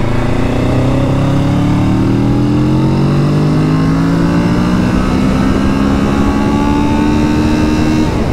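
A 2022 Kawasaki Z650 RS twin-cylinder motorcycle engine climbs steadily through the revs, a loud, close droning growl whose pitch rises smoothly across the whole stretch with no talk over it.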